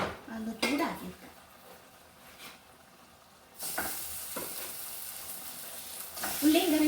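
Leftover boiled tapioca being fried in oil with onion and curry leaves, a steady soft sizzle with stirring and pan scrapes, quieter midway then rising again with a brief clatter near the end.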